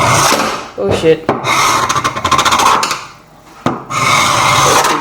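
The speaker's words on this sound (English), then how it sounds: "So when you sand everything down" Hand sanding on a DIY wooden kitchen island worktop gives repeated loud scraping, rasping strokes in quick bursts with short pauses between, close up, with a brief spoken word among them.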